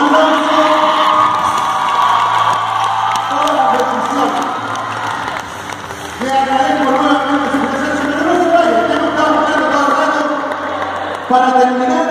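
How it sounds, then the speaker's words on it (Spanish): A crowd at an institution's raffle prize event applauds and cheers, with whoops and shouts from adults and children in a loud, sustained roar that swells and dips for several seconds. "Un aplauso."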